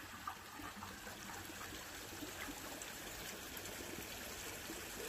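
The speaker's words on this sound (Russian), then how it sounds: "Вода просто хлещет и пруд все мельче и мельче день ото дня." Water gushes steadily out of a draining village pond through a washed-out pipe, a dense, continuous rushing stream heard close with no pauses or voices.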